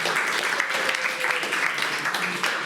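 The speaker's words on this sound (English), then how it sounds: "Big round of applause for Ben Wedge, everybody." An audience at a business academy event claps together in dense, sustained applause, steady and fairly loud throughout the short burst.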